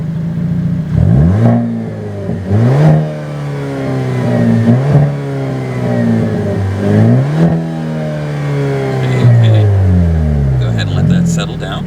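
Hyundai Elantra N, 2022, in sport mode, its engine and exhaust revving repeatedly: several rising and falling revs, each climbing then dropping back, loud and close. No one speaks.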